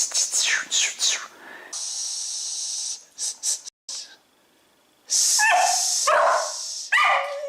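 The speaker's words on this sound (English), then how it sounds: "Oh shit, dog." A pet dog barks, yips and whimpers in short, close bursts, broken by stretches of steady hiss and brief quiet gaps.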